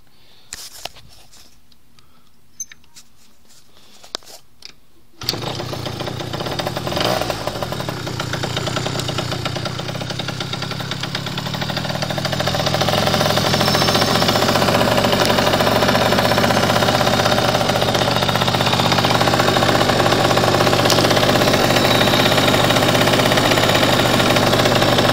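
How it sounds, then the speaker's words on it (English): An older motorcycle on its stand starts after a few clicks and handling noises, then idles roughly and is revved into a loud, sustained engine roar close by. "let me start it up and rev it so you can hear what it sounds like"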